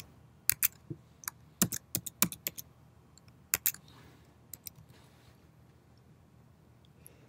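Keys tapped on a computer keyboard while a password is entered, a few sharp close clicks in small bursts with gaps, then quiet near the end.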